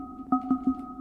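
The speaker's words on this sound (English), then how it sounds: "imagine if we started with this metallic sound, but then we took our depth and really, really quickly swept it down so that then we ended the sound on the sine wave" A Sonicware Liven Ambient Ø synth percussion tone sweeps quickly from a metallic timbre to a sine wave, with three short tuned hits pulsing over a steady sustained hum.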